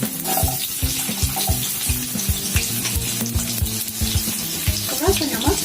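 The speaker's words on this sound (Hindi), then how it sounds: "तेल हमारा गरम हो चुका है, अब हम इसमें आलू को डालेंगे।" Large chunks of medium potatoes fry in hot oil with a close, continuous crackling sizzle over a low tonal hum.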